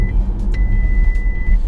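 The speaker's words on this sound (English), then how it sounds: "that noise is indicating that the car thinks you're going over a white line" A 2020 VW ID.3 lane departure warning plays as a steady electronic tone inside the moving car, holding from start to finish over a constant low road rumble.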